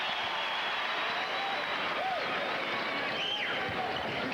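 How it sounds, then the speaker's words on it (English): A large arena crowd at McNichols Arena in Denver applauds during a 1995 NBA game between the Philadelphia 76ers and the Denver Nuggets, a steady, dense roar of clapping and cheering that holds unbroken, with faint whistles rising above it. "And now the crowd will applaud him."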